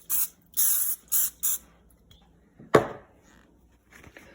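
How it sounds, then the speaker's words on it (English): Cooking spray is sprayed onto a pizza pan in four short, close hissing bursts, followed by a sharp clatter and a few faint knocks. "Spray a little bit of Pam on the pan just so the pizza doesn't stick."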